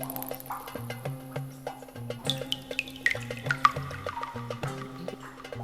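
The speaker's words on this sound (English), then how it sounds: "I hear water. Do you hear it?" A bathroom tap runs somewhere nearby in a home, a light trickling, splashing water sound with drips, heard over a steady tonal hum and occasional clicks.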